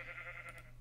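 A sheep bleats once, short and faint, over a steady low hum.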